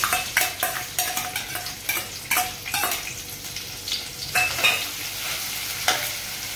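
Crushed garlic frying in a pan for a Marathi Agri-style dried fish curry, with bursts of sizzling and repeated stirring scrapes, close and fairly loud.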